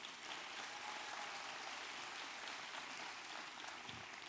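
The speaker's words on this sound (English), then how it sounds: "Let's give our governor another round of applause" Commencement audience applauding the governor at a December graduation ceremony, a steady, fairly distant wash of clapping that holds evenly through the whole stretch without voices.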